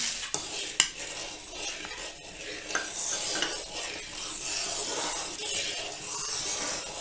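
A spoon steadily stirs semolina colostrum milk pudding in a pan, a continuous close scraping and swishing with a few light clinks against the metal, no voices.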